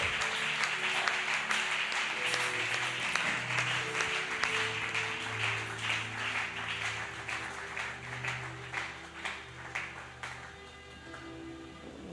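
A church congregation applauding loudly in praise to the Lord, dense sustained clapping with a faint rhythmic lilt, close and full, gradually thinning toward the end, with an organ or music tone under it.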